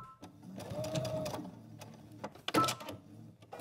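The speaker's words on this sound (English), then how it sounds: "I'm gonna go ahead and backstitch" A sewing machine stitches at a fabric hem while an invisible zipper is inserted, whirring in short bursts with brief pauses between runs of close, clear backstitching.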